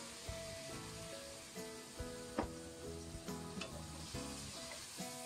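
Food is stir-fried in a wok after light soy sauce goes in, with a soft steady sizzle under repeated rhythmic scrapes and knocks of a spatula, fairly quiet overall.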